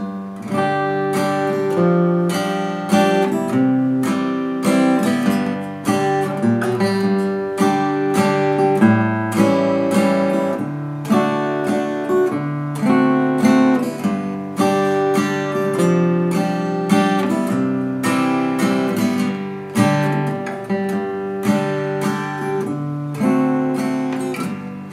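Acoustic guitar strums Amazing Grace using seventh chords, a steady picked melody over chords ringing close and clear throughout, with no voices.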